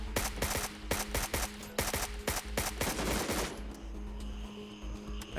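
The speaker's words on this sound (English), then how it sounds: "I empty my magazine in a frenzy" Rapid automatic AK rifle fire in the shooter game Gray Zone Warfare, a frenzied burst of loud, closely spaced shots emptying a magazine, followed by a brief tail of echo and gear noise.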